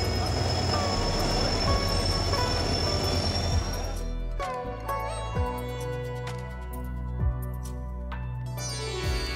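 A train (number 18013 or 18011) at Adra railway station: a steady rumble gives way to clanking, screeching wheels and metallic clicks as it rolls along the platform, with faint station voices around.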